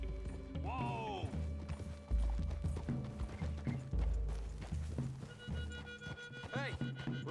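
Horses whinny and their hooves thud and clop in Red Dead Redemption 2, with two clear neighs, under music and game sounds, while people talk.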